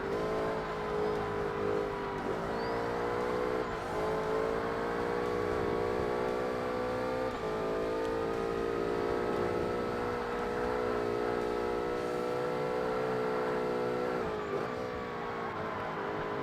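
An R-P1 class race car in Forza Motorsport drones steadily around a circuit, the engine note holding high with brief dips at each gear change or braking point, continuous and loud throughout.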